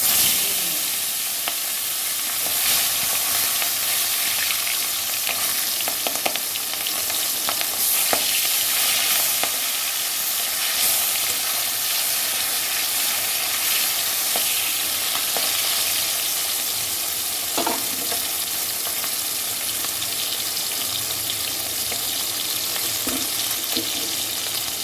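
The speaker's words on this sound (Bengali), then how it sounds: "মাছগুলো এখন আমি ভেজে নেব" Chital fish pieces rubbed with turmeric and salt fry in hot oil, giving a steady, close, continuous sizzle with faint stirring crackles and no voices.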